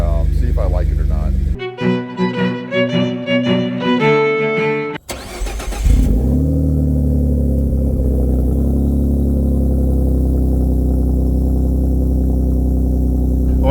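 Ford F150 EcoBoost pickup with a custom 4-inch stainless steel exhaust, starting and then settling into a steady, loud low rumble while driving, after a burst of music at the start.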